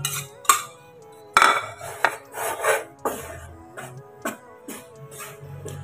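A utensil scrapes and clinks against a frying pan while stirring flour, producing irregular knocks and gritty scrapes separated by short quiet gaps, close and moderately loud.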